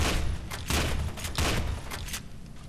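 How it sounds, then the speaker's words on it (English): Shotgun blasts in the video game F.E.A.R. 2: Project Origin, several heavy booming shots in quick irregular succession amid dense game noise and combat effects. "You'll use the shotgun quite a bit, probably."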